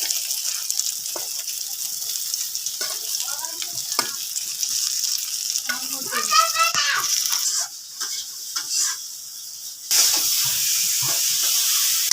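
Boal fish sizzles in hot oil in a frying pan: a loud, steady, close hiss of frying that dips briefly near the end before surging back.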